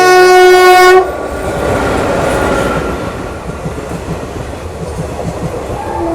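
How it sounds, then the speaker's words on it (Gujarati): A loud train horn blares for a second, then a passenger train (20491 Jaisalmer–Sabarmati) rumbles past close by at a level crossing with rhythmic clickety-clack of wheels on the rails. "ક્રોસિંગમાં ટ્રેન આવી ગઈ છે"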